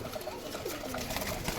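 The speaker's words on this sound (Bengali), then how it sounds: "কবুতর বিক্রি" Several pigeons kept for sale coo softly and continuously nearby, low throaty calls overlapping in a steady murmur with no talking.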